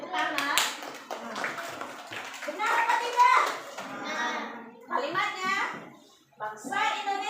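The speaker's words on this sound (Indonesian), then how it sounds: "Tepuk tangan." Schoolchildren in a classroom clapping their hands, a close burst of rapid claps mixed with loud children's voices and chatter throughout.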